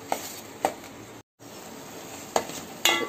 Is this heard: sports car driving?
no